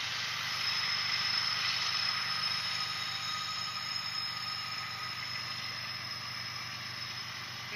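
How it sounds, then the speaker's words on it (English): A steady, loud train rumble fills the whole stretch, a broad roar with high hiss and no breaks, like a train rolling past close by. "Sorry about the train."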